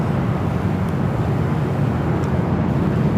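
Lufthansa airliner on arrival from Munich at Los Angeles airport, a steady broadband engine roar holding constant and loud throughout, with no speech over it.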